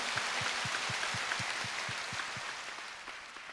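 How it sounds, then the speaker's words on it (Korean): A church congregation at the 52nd Full Gospel World Mission Conference gives warm, sustained applause, a dense clatter of hands over an evenly spaced low beat that slowly fades toward the end. "제52회 순복음 세계 선교대회를 허락하신 하나님께 뜨거운 박수로 영광 올려드리겠습니다."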